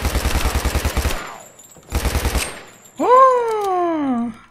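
Automatic gunfire in the Minecraft Modern Warfare mod, two loud rapid bursts of evenly spaced shots separated by a pause, followed by a sustained tonal game sound.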